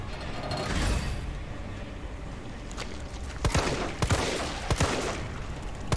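Gunfire in the survival horror game Resident Evil 3 Remake, heard as several sharp shots over a dense, rumbling game soundscape, loud and near, with no voices.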